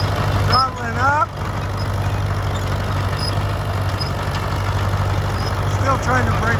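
A tracked machine with a stuck right steering clutch and brakes needing adjustment throttles up while climbing a hill, its engine a loud, steady, rumbling drone, with someone talking over it at the start and end.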